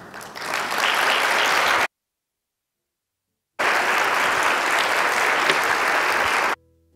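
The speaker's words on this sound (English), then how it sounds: "Let's give Director Williams another round of applause." An audience applauds a conference keynote speaker loudly in two bursts separated by a short silence, dense clapping from a large crowd.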